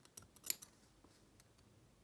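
Scissors snip fabric for a doll hat in several quiet, close, crisp cuts grouped near the start, then softer scattered clicks in a hushed room.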